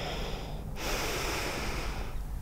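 Breath during a yoga flow, with arms active and a low chair-pose seat: a loud close nasal exhale rushes out, a short pause follows, then a second breath. No speech is heard.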